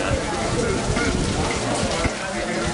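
Heavy rain pours down in Cuba, a dense, steady hiss that runs without a break from start to finish, with voices talking faintly underneath.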